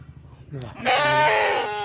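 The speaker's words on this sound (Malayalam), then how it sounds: "നല്ലൊരു ക്രോസ് ബ്രീഡ് ആട്" A crossbred goat, a young doe after her first kidding, lets out one loud, close, drawn-out bleat following a few softer sounds.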